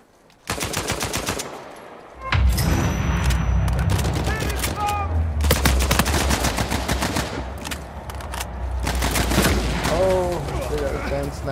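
Sniper and automatic gunfire in an Uncharted 4 multiplayer match, loud and close, with sharp repeated shots and bursts mixed with game effects, music and voices talking throughout.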